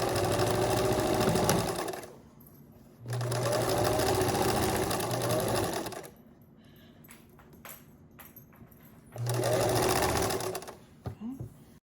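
Home sewing machine stitching across a fabric face mask in three loud, steady runs separated by pauses, with faint handling clicks in the gaps and no talk.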